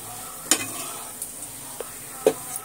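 Fish pieces seasoned with salt and chilli powder fry in a pan, a soft continuous sizzle punctuated by a few sharp utensil clicks and scrapes against the pan.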